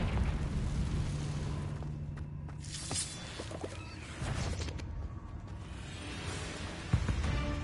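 In the Hogwarts Legacy video game, Confringo fire blast spells explode amid fast combat, with rumbling booms, crackling bursts and sharp pops layered over a constant dense background of battle noise.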